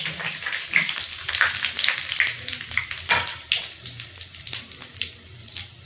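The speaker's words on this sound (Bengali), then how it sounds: "ফোড়নে জিরে আর তেজপাতা দিয়ে দেবো, জিরে আর তেজপাতা দিয়ে দিচ্ছি।" Cumin seeds and bay leaves hitting hot oil in a pan for tempering in Bengali home cooking; the sizzle crackles and spits unevenly at close range, with sharp pops throughout.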